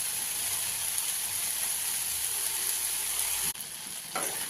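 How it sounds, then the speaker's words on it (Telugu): Capsicum being fried and stirred continuously in a pan for chutney: a steady, dense sizzle with no talk, briefly dipping near the end as the spoon moves. "ఇలా 2-3 నిమిషాలు కలుపుకుంటూ కంటిన్యూస్గా వేయించుకోవాలి."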